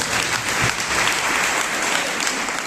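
An audience at a Jain monk's religious discourse claps in a steady, continuous burst of applause, loud and unbroken throughout.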